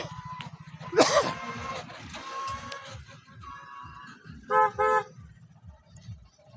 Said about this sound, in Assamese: নিশ্চয় আপোনালোকে শুনিছে গাড়ীৰ হৰ্ণৰ শব্দ